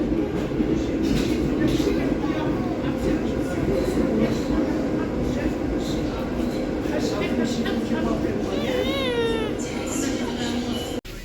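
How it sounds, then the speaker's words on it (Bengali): A Paris tram rolls into a stop with a loud, continuous rumble and rattle of wheels, a brief squeal of brakes near the end, and voices talking over it. "ট্রাম ট্রেন ঢুকে গেছে"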